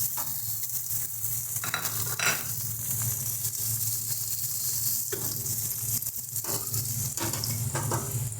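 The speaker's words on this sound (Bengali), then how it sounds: "এবারে আমরা পনিরগুলো দিয়ে ভেজে নিচ্ছি।" Thinly cut paneer fries in hot mustard oil in a wok, a steady loud sizzle with occasional scraping stirs and clatters running throughout.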